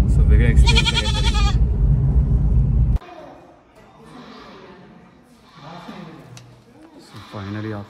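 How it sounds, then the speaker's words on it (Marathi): A small goat kid, about to be taken to a temple near Karad, Vasantgad, gives a loud, close, quavering bleat and later a second shorter one, with people talking quietly in between. "छोटंसं बकरीचा पिल्लू आहे, म्हणजे बकरी आहे छोटी."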